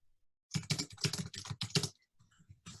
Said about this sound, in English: Nicole Lezin, I'm going to mute you because I can hear you typing